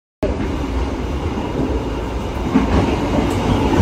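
Passenger train in Indonesia near Malang, heard from inside the carriage, a loud, continuous rumble of wheels on track that starts abruptly and holds steady with faint rhythmic clatter.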